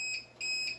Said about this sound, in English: JW Solar USA is beeping.